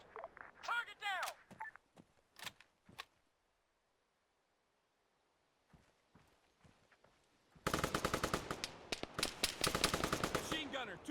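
Machine gun bursts in the military shooter Arma 3 start partway through as dense, loud continuous automatic fire, after brief voice bits and a near-silent stretch.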